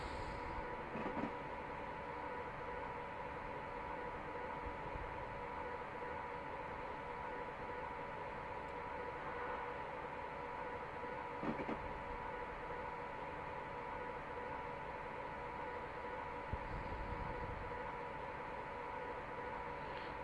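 A Class 89 electric locomotive in Train Simulator Classic runs on the Carlisle to Glasgow Central line at about 125 mph, giving a steady rumbling drone with a constant hum and faint passing clicks, no voices.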